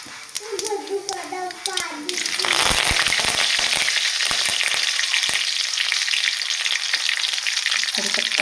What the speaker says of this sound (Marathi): आपलं छान तेल गरम झाले तर आपण टाकू मोहरी पूर्णीसाठी आणि जिरे